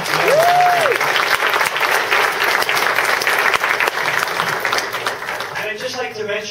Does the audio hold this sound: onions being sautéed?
no